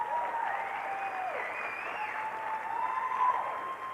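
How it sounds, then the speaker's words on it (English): Applause from an audience at an Arts Council of Fayetteville event, moderate and steady over about four seconds, with some whistling or tonal sounds mixed in and a slight rise near the end. "Let's give her a round of applause"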